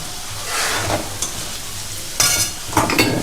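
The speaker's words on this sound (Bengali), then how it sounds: "আলুটা একটু ভাজা হয়ে গেছে ভালো, এক্সট্রা অত তেল তো দরকার নেই" Potatoes frying in oil in a pan, a steady broadband sizzle with occasional stirring scrapes and louder bursts of crackle near the end, with no voices.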